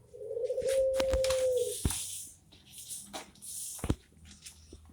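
Young turtle doves of the puter pelung breed, about three months old, are kept in a cage. A short coo comes early, followed by scattered clicks and light knocks from the cage, with no talk.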